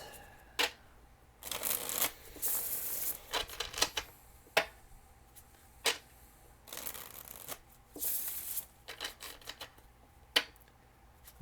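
Tarot cards are shuffled by hand, with repeated riffling bursts and soft slides of card against card, close and fairly loud, with short pauses between handfuls.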